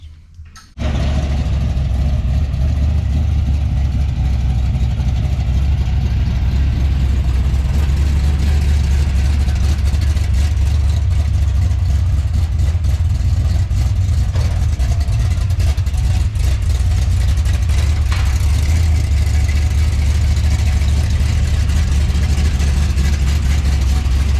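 A 1970 Chevelle V8 fitted with Holley Sniper 2 fuel injection starts up after a brief quiet moment and then runs loud and steady, with a deep, throaty rumble held close throughout.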